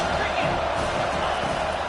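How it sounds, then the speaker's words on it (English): A football stadium crowd at an Eagles and Penn State game roars in a dense, continuous wash of cheering and noise, loud and sustained with no break. "Here comes second down, and this crowd is turning it up a notch."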